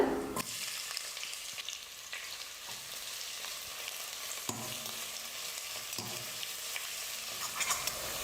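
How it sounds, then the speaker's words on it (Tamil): Thinly sliced onions, two large ones, sautéed in a pan until browned for a lunch-box rice dish, with a steady sizzle and frying hiss throughout and occasional scrapes and stirring knocks of the spatula. "வெங்காயத்தை வந்து நல்லா இந்த மாதிரி ப்ரௌனாக வர வரைக்கும் வதக்கணும்."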